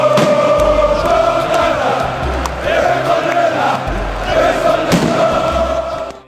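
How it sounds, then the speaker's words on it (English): A big soccer crowd in Greece cheers and chants without pause, loud and dense, with occasional sharp bangs and thuds breaking through the roar. "the crowd was always cheering non-stop"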